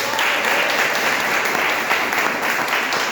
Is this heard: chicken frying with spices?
no